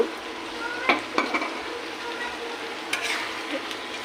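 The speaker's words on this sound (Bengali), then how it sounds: "নাড়াচাড়াতে একটু মিশিয়ে নেই" Lotus stem and bean paturi being stirred in a pan: a gentle, steady sizzle with a few sharp scrapes and taps of the utensil against the pan, fairly quiet, with no voices.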